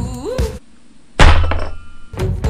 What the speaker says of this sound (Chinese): 把金属物体放进导管里推动一下，就可以发射出去了